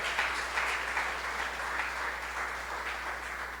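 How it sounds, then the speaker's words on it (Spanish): Church congregation applauding in a soft, continuous wash of clapping, fairly distant and low in level, with a steady low hum running underneath. "Dáselo fuerte ese aplauso, hermano, que es para el Señor Jesucristo"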